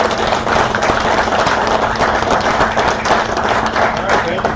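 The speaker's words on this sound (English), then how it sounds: "Give him a big round of applause" Loud continuous applause greeting a speaker at an outdoor events industry conference on structural engineering, a dense steady clatter of many hands with some crowd noise and a faint hum beneath.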